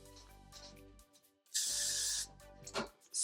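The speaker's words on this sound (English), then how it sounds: "Spray and lay." An aerosol can of hairspray fires a steady hiss onto a styled drag wig for under a second, close and loud, between quieter moments of snipping and handling.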